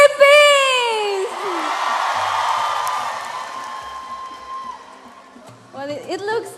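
A pageant audience at the Miss Earth 2017 final erupts in loud whoops and high shrill cheers that swell into a broad crowd roar, fading and then flaring again with fresh yells near the end.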